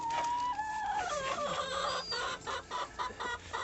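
A rooster crowing and hens clucking in snowy winter weather in Krasnodar: a close, loud crow followed by a run of choppy clucks from the hens, with no talk.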